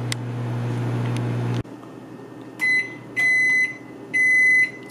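A microwave oven hums steadily while cleaning itself, the drone cutting off abruptly, followed by three loud beeps from the oven.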